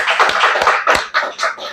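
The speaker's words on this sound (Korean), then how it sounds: "하나님 앞에 우리 너무 감사의 박수 드리겠습니다." A church congregation claps in thanks during a service, producing a loud, dense burst of applause from many hands that fills the whole moment.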